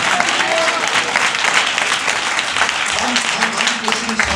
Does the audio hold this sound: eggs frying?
no